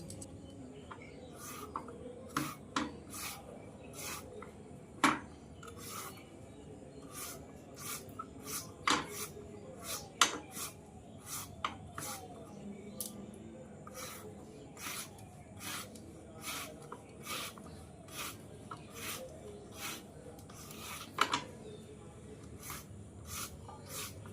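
A bottle gourd is cut in a home kitchen, giving a steady series of short, crisp knife strikes and scraping rasps at close range, fairly quiet, with faint background sound.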